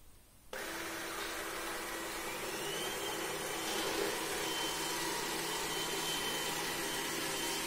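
A Yeedi 2 Hybrid robot vacuum cleaner starts up after a short quiet moment and keeps running with a steady, loud whirring hum at close range, with no talking over it.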